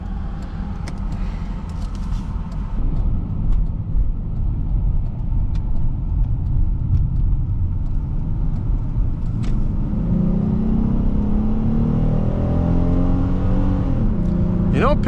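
A 2005 Buick Rendezvous SUV with a base 185-horsepower engine accelerates on the road, heard from inside the cabin as a steady, loud engine and road rumble that builds and rises in pitch toward the end.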